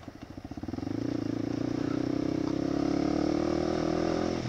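A small motor scooter putters into earshot and rises to a steady, buzzing drone, close by and continuous, with faint background chatter, in Nueva Vizcaya, Philippines.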